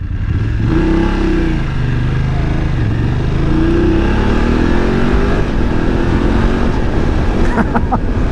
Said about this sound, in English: That quick shifter is lovely. It does, it makes it so effortless changing gear.